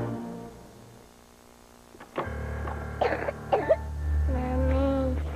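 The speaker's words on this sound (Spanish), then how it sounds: "La tos que más le duele y angustia es la de sus niños" A child coughs several times in quick, harsh bursts, followed by a whimpering, tonal vocal sound over a low background hum.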